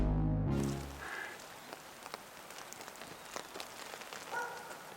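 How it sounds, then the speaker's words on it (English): Rain falling steadily on an outdoor disc golf course in Nantucket during a tournament round, a soft, continuous patter with scattered droplet ticks that follows a brief louder low rumble at the start. "Even though it's raining, these guys are having fun."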